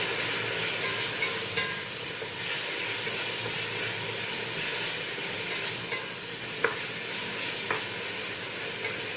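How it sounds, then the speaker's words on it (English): Onions and celery sautéing in a pan for Moroccan harira soup, a steady close sizzle and frying hiss filling the whole stretch, with a few faint clicks of utensils. "I'm just going to let this now saute until the onions start to soften."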